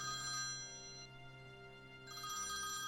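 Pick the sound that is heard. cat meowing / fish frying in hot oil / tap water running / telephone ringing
telephone ringing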